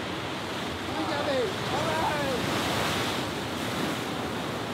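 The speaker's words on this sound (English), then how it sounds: "By the rough Mediterranean Sea." Rough Mediterranean Sea waves on the Amalfi Coast, a steady wash of surf with wind noise, swelling slightly midway, fairly close and continuous, while a faint voice briefly rises.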